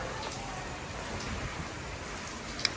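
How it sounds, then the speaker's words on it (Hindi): Heavy rain pours down steadily in a dense, even hiss of drops striking surfaces, with one brief sharp knock near the end. "बड़ी खतरनाक वाली बारिश है"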